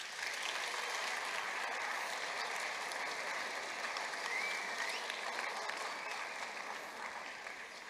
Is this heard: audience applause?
yes